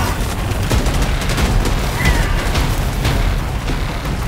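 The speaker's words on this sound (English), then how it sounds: "Bomb drop coming in." Bomb drop explosions in Helldivers 2: a dense, continuous roar of booms and blasts with rumbling low end, loud throughout with no single clear detonation standing out.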